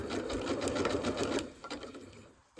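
A sewing machine stitches appliqué with a steady, rapid needle hum for about a second and a half, then slows and stops with a few softer mechanical clicks and a brief thump at the end.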